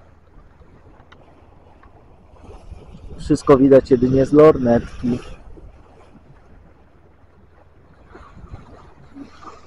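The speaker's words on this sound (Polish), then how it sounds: "Oczywiście płyniemy na silniku" A boat motoring at sea under engine power on a crossing to Norway gives a constant low drone with some wind noise, while a voice speaks briefly in the middle over it.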